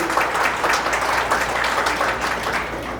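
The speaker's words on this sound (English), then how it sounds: "Please give him a big round of applause" Guests at a wedding ceremony break into applause, a full round of clapping that stays dense and even, tapering slightly at the end.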